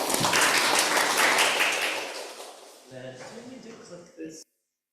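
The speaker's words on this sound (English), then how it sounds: "Give applause, everyone." Steady audience applause at a public lecture fills the room for a few seconds, then fades as a voice starts speaking over the tail end.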